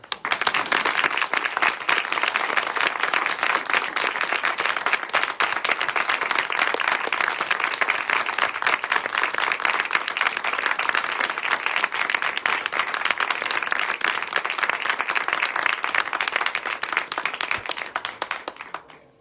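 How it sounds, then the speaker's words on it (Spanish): Audience applause at a poetry recital in Otxarkoaga, dense sustained clapping from a crowd that stays loud and steady for nearly twenty seconds before tapering off. "Un aplauso"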